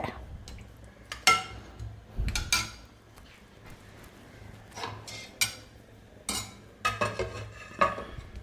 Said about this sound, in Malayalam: ഇനി നമുക്ക് ഇത് ഇളക്കിയൊന്ന് യോജിപ്പിക്കാം.